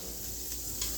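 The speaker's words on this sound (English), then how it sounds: "you're gonna add butter to the same pot" Butter melting in a pot on medium heat after browned ground beef has been drained from it: a soft, steady sizzle with light crackle, fairly faint and continuous, with no voices.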